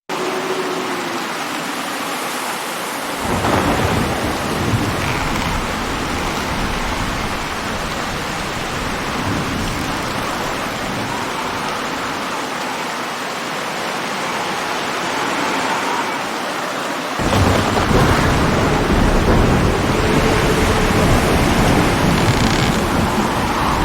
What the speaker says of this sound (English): Let's start by listening to my forest in a storm sound effect.